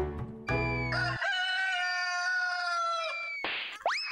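A rooster on a farm crows once in a long, loud, drawn-out call close by, ending with a short squawk and no voices.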